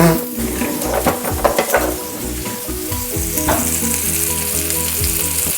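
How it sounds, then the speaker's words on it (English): Loud, steady sizzling of IKEA meatballs browning in a frying pan, with a few clinks and scrapes of stirring early on and no talking. "So we're browning these bad boys before they go in the oven."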